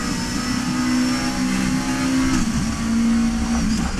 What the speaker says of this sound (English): I'll let you enjoy the noise of this McLaren as we come round start-finish line